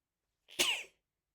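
A single sharp, explosive burst from a nearby person, brief and breathy, standing alone in otherwise quiet surroundings.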